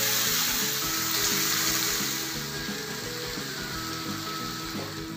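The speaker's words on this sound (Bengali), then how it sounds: "এবার এই হাতে মাখা পুরো উপকরণটাই আমি এই গরম তেলের উপর ছড়িয়ে ছড়িয়ে দিয়ে ঠিক এরকমভাবে বিছিয়ে দিয়ে" Small mourala fish mixed by hand with spices, spread over hot oil in a pan, frying with a steady, close sizzle and crackle that fades slightly over time, no voices.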